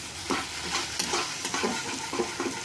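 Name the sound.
stir-frying potato and cauliflower masala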